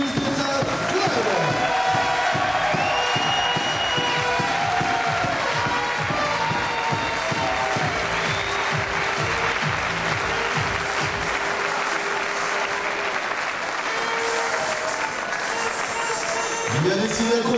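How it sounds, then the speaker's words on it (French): An audience applauds to welcome a French table tennis club at a Levallois versus Caen match, with dense rhythmic clapping and some cheering that swells early, stays steady for a long stretch, then thins out toward the end. "Je vous demande de les accueillir et de les applaudir."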